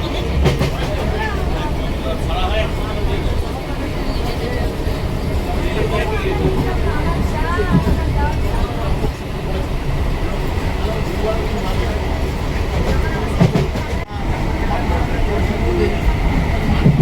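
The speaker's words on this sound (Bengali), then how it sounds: "সবে ট্রেনে উঠে বসে পড়েছে, আর ট্রেনটা এইমাত্র ছেড়েছে।" A passenger train that has just pulled out keeps up a steady rumbling roll heard from inside the carriage, with constant babble of voices and people talking throughout.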